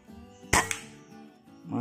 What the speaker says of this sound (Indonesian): keempat ya.